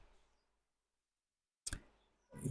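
Two sharp, quiet computer mouse clicks land close together after a stretch of near silence, as someone clicks through the Windows Control Panel.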